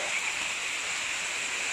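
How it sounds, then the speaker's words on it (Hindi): Heavy rain pouring down in a dense, even hiss of falling water, steady and fairly close throughout, with no voices over it. "ओ बहुत तेज आया सुनो बारिश।"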